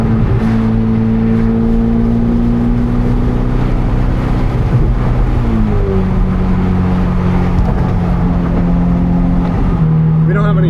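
A Ferrari 488 Pista with a Kline Inconel exhaust drones loud and close. Its engine tone holds steady, then drops and shifts pitch a few times as the revs change.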